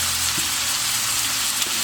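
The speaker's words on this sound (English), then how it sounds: "I just want to heat it up, put a little crisp on it" Precooked Polish sausage with onions fries in a pan, a loud, dense and continuous sizzle heard up close, with a couple of faint stirring bumps.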